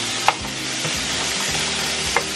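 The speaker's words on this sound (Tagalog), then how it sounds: "Kailangan natin siya maluto sa butter." Food frying in butter in a home kitchen, a steady close sizzle with a few brief stirring clicks, no talking.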